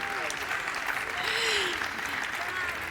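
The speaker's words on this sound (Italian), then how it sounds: "Un grande applauso per Eleonora Giorgi." An Italian audience applauds actress Eleonora Giorgi as she is welcomed onstage. Dense, even clapping runs throughout, with a few voices rising faintly above it.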